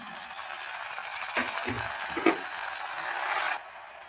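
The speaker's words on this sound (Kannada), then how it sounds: "ಈರುಳ್ಳಿ ಇದ್ದೀನಿ ಇದು ಸ್ವಲ್ಪ ಚೆನ್ನಾಗಿ ಫ್ರೈ ಆಗಬೇಕು ಎಣ್ಣೆಯಲ್ಲಿ" Onion and tomato frying in oil for a wedding-style vegetable kurma, a soft steady sizzle with a few clinks and scrapes of stirring, fairly quiet and close.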